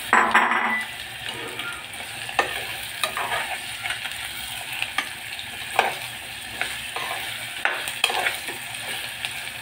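Raw drumsticks stir-fried in an onion-garlic tempering, a continuous close sizzle with a spoon scraping and knocking against the pan at irregular intervals.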